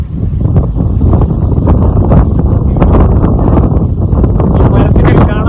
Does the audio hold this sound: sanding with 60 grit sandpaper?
no